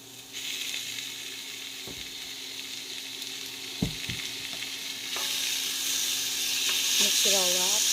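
Rib eye steak sizzles in a pan with onion and garlic, a steady frying hiss that grows louder partway through, with scattered stirring knocks and a brief pitched squeak near the end.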